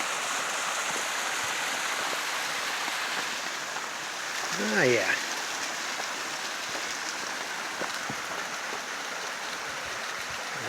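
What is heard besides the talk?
small waterfall at a trail water source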